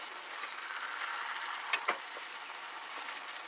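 Chicken frying in a pan for chicken noodle soup, a steady moderate crackle with a couple of sharp clicks from a utensil turning the pieces partway through.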